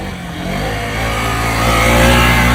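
Motorcycle revving hard during a wheelie, the engine note building steadily and growing louder over a couple of seconds, close up, with no talking.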